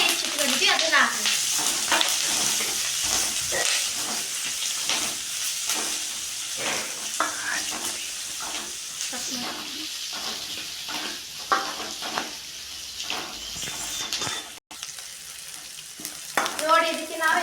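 Chopped onions sizzle and crackle in a hot tempering for North Karnataka rotti oggarane. Stirring and scraping go on throughout, with brief rustles and clatters, and a voice speaks faintly underneath.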